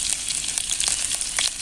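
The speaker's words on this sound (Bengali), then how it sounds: "এটা একটু ভাজা ভাজা করে নেব।" Chopped garlic, chilli and ginger frying in hot oil, a close, steady crackling sizzle with small popping bursts throughout, no voices.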